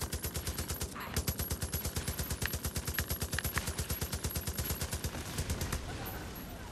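Rapid automatic gunfire from the Dead Living Zombies video game, a long steady stream of evenly spaced shots rattling without pause for several seconds, loud and close.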